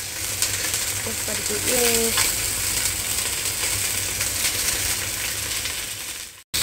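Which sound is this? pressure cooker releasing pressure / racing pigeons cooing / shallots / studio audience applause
shallots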